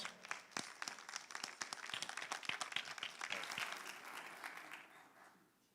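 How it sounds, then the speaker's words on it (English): A lecture audience gives a warm round of applause to welcome a speaker to the stage, a dense burst of many hands clapping that swells and then gradually fades out, heard from within the hall. "Give him a warm round of applause."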